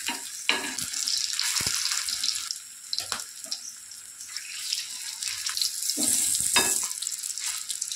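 Chicken kebabs frying on a griddle, a few at a time in a little oil, give a steady close sizzle with brief clatters as pieces are turned, no one talking.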